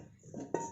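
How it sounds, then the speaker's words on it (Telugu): A bowl that held milk is set down with a single short, soft clink against a hard surface, quiet and close, after a brief low shuffle. "ఆ గిన్నె పెట్టేసుకుందాం"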